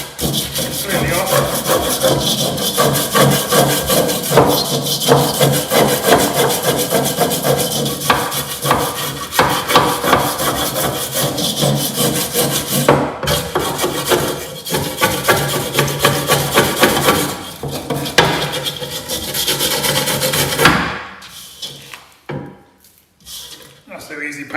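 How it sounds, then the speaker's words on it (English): Old paint is scraped off the metal of a fishing and camping car trailer under restoration, a loud, dense rasping that runs steadily for about twenty seconds before stopping abruptly, followed by quieter scuffs. "That's how easy paint comes off if you don't prep the surface properly"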